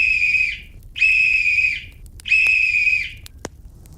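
A silver whistle blown three times in even, separated blasts, each a bright sustained tone lasting over half a second, clear and close, with a short faint click near the end.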